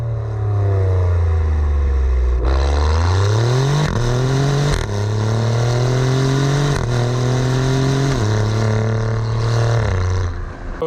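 A 2017 Alfa Romeo Giulia Quadrifoglio revs hard and close, its engine note climbing through several quick gear changes with brief dips between rising pulls.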